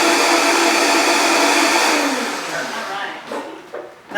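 A countertop blender purees herbs with olive oil, a loud steady whirring roar that fades and sputters out over the last couple of seconds.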